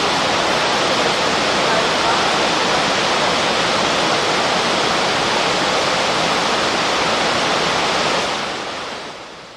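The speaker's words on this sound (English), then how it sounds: "I want you to listen to this waterfall." A powerful Scandinavian waterfall roars continuously, a loud broadband rush of falling water close to the listener that stays constant for about eight seconds before fading out, with no talking.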